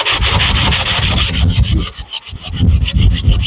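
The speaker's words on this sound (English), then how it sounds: "when you're sanding, you always go crisscross" Steady rasping sanding strokes scrubbing crisscross across a rust-repaired car body panel, close and loud, with a brief pause midway before resuming.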